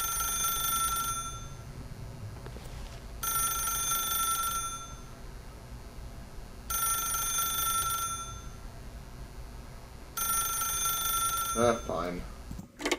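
A telephone rings in The Stanley Parable, four loud repeated ring bursts with short pauses between them, followed by a brief voice at the end.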